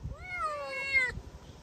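A young cat, one of six just acquired, gives a single clear rising-then-falling meow close by, lasting about a second over faint background noise.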